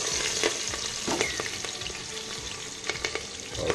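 Black pepper, cinnamon and green chilies frying in oil for chicken curry, a steady close sizzle broken by several scraping stirs and crackles.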